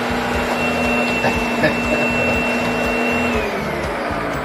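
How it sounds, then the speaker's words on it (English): Household vacuum cleaner running steadily with a loud, continuous whine and drone close by, its tone shifting slightly near the end as it begins to power down. "You want to shut off the vacuum?"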